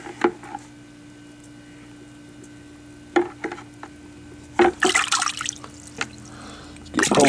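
Frozen valves dunked into a water tank to thaw, with scattered splashes and sloshing bursts over a quiet steady hum, the biggest watery churn coming in a cluster near the end.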